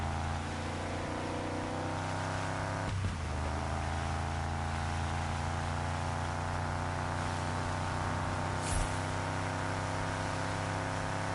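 A Miami Harris Mustang drifting in the racing game Test Drive Solar Crown, its engine droning steadily and loudly for the whole stretch, with a brief swell around the third second and another near the ninth.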